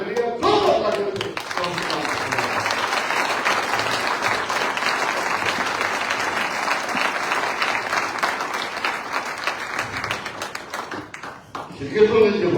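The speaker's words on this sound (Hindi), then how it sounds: "जोरदार तालियों से" During a Sunday church service, a congregation claps loudly and continuously for several seconds, a thick wash of hands filling the hall before tapering near the end, with a voice briefly heard at the start and close.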